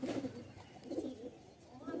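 Pigeons in a loft of Old Madrasi pigeons coo in soft, repeated low rumbling phrases, close by and steady across the moment with faint background noise.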